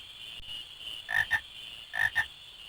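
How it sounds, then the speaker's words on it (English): Frogs in the video game Final Fantasy IX croak in two quick double bursts, clear and close over a faint steady background hum. "Frogs."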